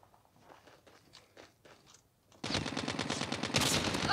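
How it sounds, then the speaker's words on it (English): Gunfire in a first-person shooter rattles in a loud dense burst after a quieter stretch of faint clicks and movement, with the DL Q33 sniper rifle in play. "I shot two times and it did not register it."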